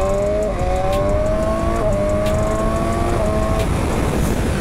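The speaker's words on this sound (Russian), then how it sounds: "Ну, просто работа квикшифтера была сейчас продемонстрирована." BMW S1000R motorcycle accelerating hard in its Dynamic Pro riding mode, engine note climbing steadily and dropping abruptly at each quickshifter gear change, three quick upshifts in a row, loud and close with no talking.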